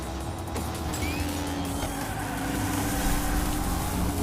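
A BMW M3 GT2 toy car in the racing game Hot Wheels Unleashed drives with a steady, loud engine drone that rises slightly, heard alone without talk.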